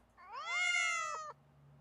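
A single drawn-out cat meow sound effect triggered from a button, rising and then falling in pitch, clear and close, lasting just over a second with no talk over it.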